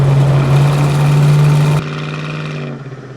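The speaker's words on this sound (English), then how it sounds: "this is a big heavy car going down the road" A 1971 Plymouth Roadrunner drives over a bumpy road, its engine a steady, loud low drone that drops sharply partway through before continuing more quietly.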